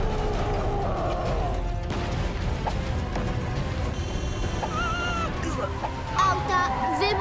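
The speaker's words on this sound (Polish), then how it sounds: "Auta wybuchają." In a Hot Wheels City cartoon, cars explode as a giant gorilla wrecks a gas station, with crashing smashes, metallic impacts and whooshing effects piled together in a busy, loud mix.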